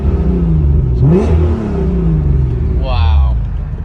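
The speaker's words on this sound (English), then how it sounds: "Here's a little rev." An Acura NSX fitted with a Pride V2 2.5-inch exhaust gives two quick throttle blips, each a rising engine sweep, over a low idle rumble while someone talks.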